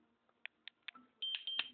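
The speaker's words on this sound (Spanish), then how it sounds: "Estos pitidos de salida pueden ser quitados a través de la programación" A GE Simon XT alarm panel arming gives a series of short, evenly spaced high electronic exit beeps, then longer sustained tones at the end, all close and alone.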